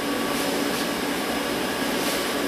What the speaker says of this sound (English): And now the vacuum's on, it's sucking